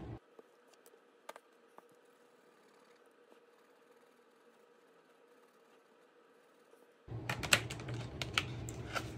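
Typing on a computer keyboard to fill in a savings tracker, quiet steady key clicks for several seconds, followed by a sudden louder burst of clattering keystrokes and handling noise at the end.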